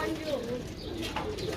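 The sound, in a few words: pigeons cooing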